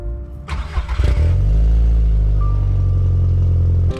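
An Audi TT 225 turbo engine after a misfire fix cranks briefly, catches and settles into a loud, steady, close idle rumble.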